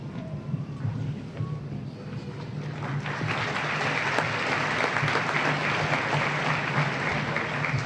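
Applause rises at a fall graduation ceremony, beginning as a scattered patter and swelling into dense, steady clapping from a large crowd with a low hum underneath.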